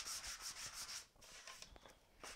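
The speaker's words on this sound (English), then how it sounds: "I'm going to take a little of my sanding block." A sanding block rubbed by hand over wood, close rhythmic scratchy strokes, fast at first and then slower and lighter.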